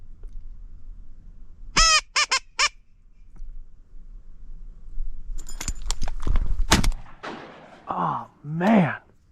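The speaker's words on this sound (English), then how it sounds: "Seems like there's a few more birds buzzing around." Waterfowl call around duck decoys during a public land duck hunt, with a burst of loud honking calls followed by more scattered quacks and squawks, close and clear against quiet marsh air.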